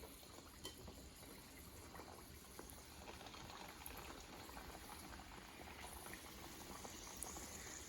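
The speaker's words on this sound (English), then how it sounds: "I stuffed all the samosas, so we're going to fry them on medium heat" Samosas fry gently in oil over medium heat, a faint, continuous bubbling hiss with small crackles, steady and uninterrupted.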